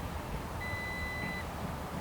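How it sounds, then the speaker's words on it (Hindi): The electronic tailgate of a 2025 Tata Sierra gives a steady confirmation beep, a single thin tone lasting under a second. It is fairly quiet over a constant background hum, with no voices. "जो इसका ये बटन है, इसको प्रेस एंड होल्ड करके रखो, एक बीप साउंड सुनाई देगी"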